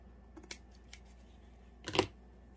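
Two or three short, crisp snips of scissors cutting excess fabric, with a louder cluster of cuts near the end, close up and quiet with no talking.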